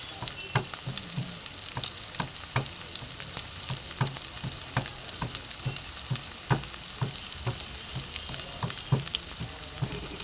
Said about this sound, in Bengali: পেঁয়াজটা সুন্দর ভাজা হয়ে গেছে